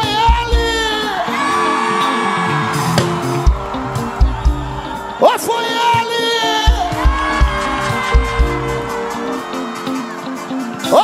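A lively crowd at a Brazilian worship music event whoops and shouts in repeated bursts over loud background music, with sharp cheering peaks recurring throughout.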